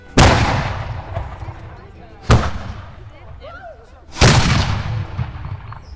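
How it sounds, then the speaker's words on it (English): A medieval multi-barreled gun fires three heavy booming shots about two seconds apart at an outdoor artillery demonstration in a medieval technology park, each blast loud and close with a rumbling decay, voices murmuring between shots. "there are regular demonstrations of medieval artillery"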